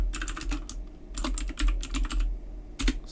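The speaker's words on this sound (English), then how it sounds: "nice typing, David" Rapid bursts of typing on a computer keyboard, close and crisp clusters of key clicks separated by brief pauses, with no voices over them.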